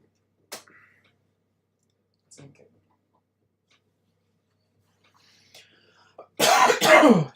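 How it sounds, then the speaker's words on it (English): A few quiet clicks and soft sounds, then a loud, close harsh cough or throat clearing burst from a person with a cold near the end. "That's why I'm coughing quite a bit."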